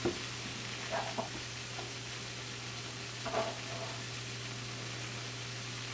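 Noodles hitting a hot pan give a faint, steady sizzle, a soft hiss with a few light stirring clatters under it.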